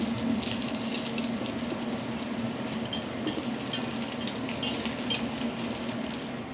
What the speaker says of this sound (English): We're gonna saute it along with the onions until it gets like translucent.